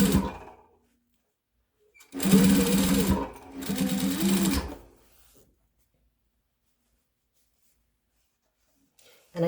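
A sewing machine back-stitching a fabric face mask runs in two close, steady mechanical bursts of a few seconds each, separated by a brief pause, with quiet before and after.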